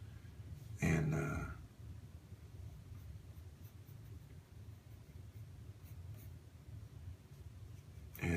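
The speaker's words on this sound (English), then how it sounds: "you get to a point to where you're just sketching away" Pencil sketching on paper in an art room, a continuous soft scratching of strokes with a louder burst of shading near the start, close and steady without talk.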